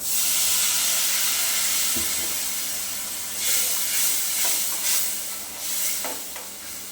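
A hot pan of tempered curry leaves and dry spices hissing and steaming as a little water is added, with several bursts of sizzle and a few stirring knocks, fading slightly over time.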